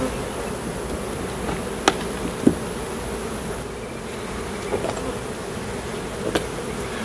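Honeybees swarm around an open hive during a summer split and requeening, filling the air with a steady, close, dense buzz. A few faint knocks and clicks from handling the hive box come through, with no voices.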